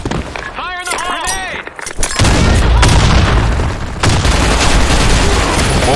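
A grenade goes off in a shooter video game, a loud booming blast that rolls into sustained, dense rumbling noise for several seconds after a brief stretch of gunfire-like chatter and a voice-over.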